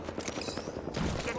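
Rapid gunfire in the video game Apex Legends, a dense crackle of quick shots close by in a short burst, with faint voices mixed underneath.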